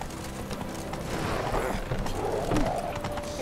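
In The Witcher 3 video game, a horse gallops in a rapid, continuous clip-clop of hooves, moderately loud and steady with ambient game sound around it.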